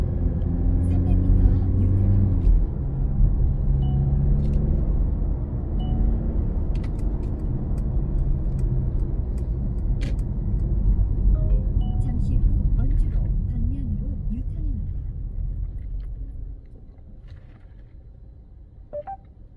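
Mercedes GLC 220d accelerating uphill, diesel engine droning low and steady inside the cabin for most of the stretch before easing off, with talking over it.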